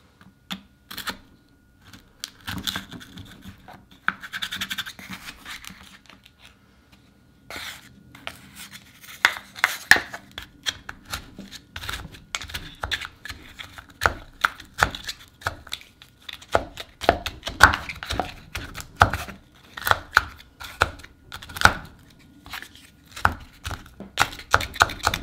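A knife cuts up a McDonald's apple pie in a series of close, crisp chops and crackling taps that get denser and faster toward the end, heard alone.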